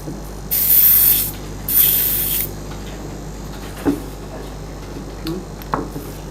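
Two long hissing bursts of tool cleaner sprayed from a can during a painting session, each about a second, followed by faint scattered ticks and rubbing noises.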